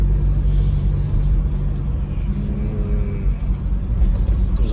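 A car driving along a road, engine rumble and tyre noise steady and close throughout, the interior drone constant with slight rises as the engine pulls.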